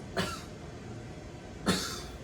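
A pair of light, quick coughs, about one and a half seconds apart, each a brief breathy puff heard close up against a quiet room background.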